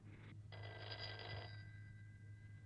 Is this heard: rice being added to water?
no